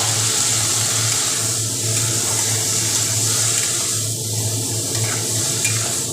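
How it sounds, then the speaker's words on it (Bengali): A little water is poured into spices frying in a pan for a lentil-fritter curry with potatoes and drumsticks, producing a continuous loud rushing hiss and bubbling sizzle up close, with no talking. "সামান্য একটু জল দিয়ে দিচ্ছি, নাহলে মশলাটা পুড়ে যাবে"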